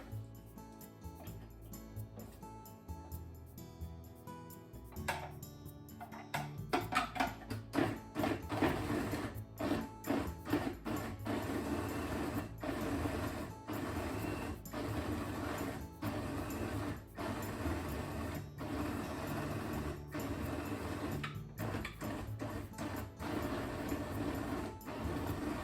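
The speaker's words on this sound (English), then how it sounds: "Cut into chunks. Into the food processor." A food processor chopping potato chunks, starting with an uneven rattling clatter and settling into a steady, close mechanical whirr with rapid rhythmic chopping pulses, no speech.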